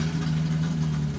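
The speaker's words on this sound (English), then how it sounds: "Motorcycle," A motorcycle engine idles with a steady, even low hum, close and alone, lasting only a moment.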